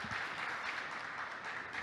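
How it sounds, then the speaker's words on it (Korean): Steady applause from a crowd at a product launch event, a dense wash of many hands clapping at once, continuous and fairly loud for the whole stretch with no talking. "박수 한번 부탁드리겠습니다"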